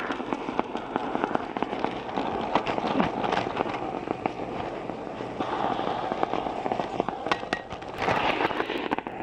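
A CO2 bottle vents through a horn to form dry ice, a loud steady hissing rush with crackling, sputtering texture that holds for several seconds and swells slightly near the end.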